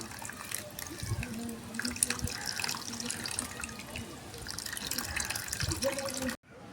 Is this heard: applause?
no